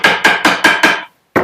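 A hammer strikes a wooden pet house, knocking its edges flush: five quick, evenly spaced sharp blows close up, then a short pause and one more hit.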